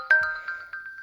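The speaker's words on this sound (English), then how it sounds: "Sorry if you can hear a ringtone." A phone ringtone plays a short melodic chime of a few bright tones, evenly spaced and ringing clearly on its own during a Marvel Strike Force gaming session.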